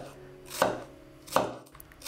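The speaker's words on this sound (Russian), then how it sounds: "Лук мелко нарезаю." An onion is finely chopped with a kitchen knife on a board: two sharp, close blade strikes land about three-quarters of a second apart amid quiet surroundings, with no voices.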